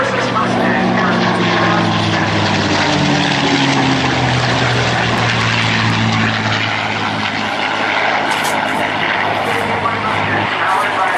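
P-51 Mustang with a Rolls-Royce V12 engine flies at a Naval Air Station Oceana airshow, a loud steady propeller drone with a deep engine growl holding throughout.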